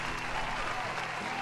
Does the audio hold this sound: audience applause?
yes